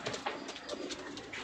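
Pigeons coo in a short, busy burst, several birds murmuring close by with overlapping soft calls and no voices over them.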